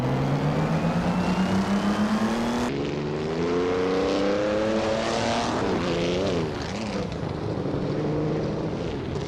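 Race car engines in a racing video game, including a Mercedes-Benz W154, screaming and climbing in pitch, then an abrupt cut to overlapping engines rising and falling as cars pass, loud and continuous.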